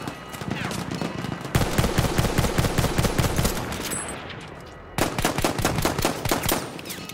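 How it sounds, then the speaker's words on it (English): Bursts of rapid automatic gunfire from shooting an enemy in Battlefield 1, loud and close, in dense repeated volleys with a brief lull before a final burst. "I love how I put so many bullets into that guy, and he didn't want to die"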